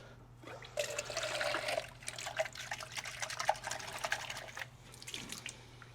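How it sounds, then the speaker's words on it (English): Water running from a tap to rinse out a small dirty cup, an uneven splashing and trickling close by over a low steady hum, with no talk. "so I'm gonna rinse it out really quickly"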